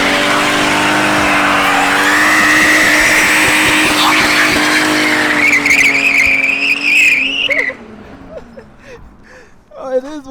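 BMW E28 clutch dump at a shop: a loud revving engine and long, wailing tire squeal that rises in pitch, then cuts off abruptly as the car pulls away, leaving fainter engine and crowd noise.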